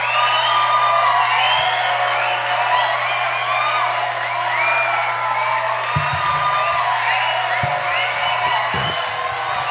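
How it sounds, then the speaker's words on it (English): An audience at a church gathering claps and cheers after a prayer, with whoops and shouts layered over continuous loud applause and a steady low hum underneath. "Round of applause."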